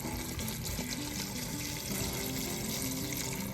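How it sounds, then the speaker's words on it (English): Tap water running steadily into a pot to cover prickly pears for jelly, a continuous close splashing gush with the pitch rising slightly as the pot fills, no talking. "Now we're just gonna cover them with water."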